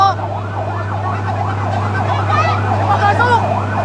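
A fire truck siren wails in steady rising-and-falling sweeps at a burning building in Manuyo Dos, loud and near, over a constant low engine rumble.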